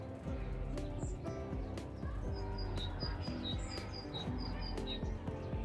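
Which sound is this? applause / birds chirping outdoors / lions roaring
birds chirping outdoors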